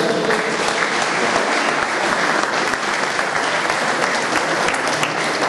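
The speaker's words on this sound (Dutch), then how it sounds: "een fijn applaus voor de ploegmanager Iwan Gevers en de ploegleider Jeff Drijbels" A crowd at a women's cycling team presentation breaks into loud, continuous applause for the team manager and team leader, with the clapping steady and full from start to finish.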